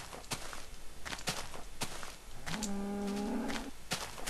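Soft footsteps and light clicks in Minecraft lead into one low, drawn-out cow moo that lasts about a second and is heard clearly on its own.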